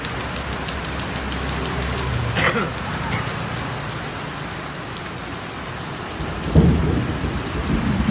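Steady heavy rain pours throughout, with a low rumble of thunder partway through and a sharper, closer crack near the end.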